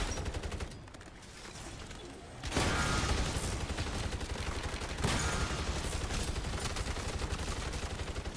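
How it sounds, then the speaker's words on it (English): Sentry gun in MW3 Zombies rattles off a dense, continuous burst of rapid automatic fire. It swells loud after a brief lull and keeps hammering steadily up close. "The sentry gun."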